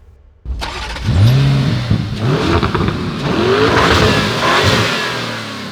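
A Lamborghini Urus Performante with a twin-turbo V8 starts abruptly, then revs loudly and close in several rising and falling surges, its deep growl sustained throughout.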